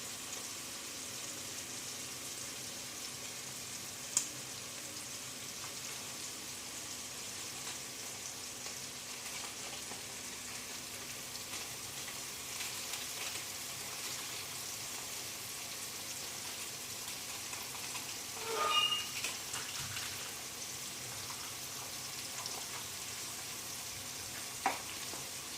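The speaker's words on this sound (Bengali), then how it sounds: "একটু দারচিনি আমি তেলের মধ্যে দিয়ে দিলাম।" Cinnamon in hot oil gives a faint, continuous soft sizzle with light crackles throughout, plus a small clink near the end, no voices.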